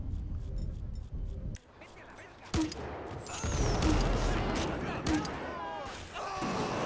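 Gunshots fired into the air in GTA 5 during a riot-police mode clash, sharp cracks at about 1.6, 2.6 and 5.1 seconds amid loud, dense crowd and gunfire noise, with a voice talking over the chaos.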